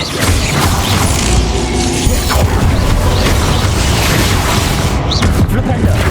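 In the Hogwarts Legacy video game, a Confringo spell blast sounds amid a loud, dense battle with booming impacts and crashes, constant rumble throughout, and voices present.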